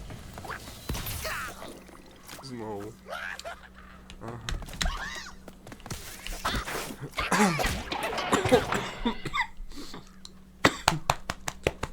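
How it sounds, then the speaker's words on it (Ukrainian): Several rough coughs and throat-clearing sounds break up scattered background noise, ending in a quick run of sharp bursts. "Серйозно, кашель мене задолбав, так"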